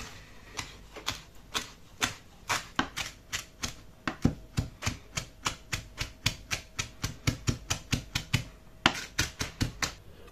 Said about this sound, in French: Je vais hacher mon persil.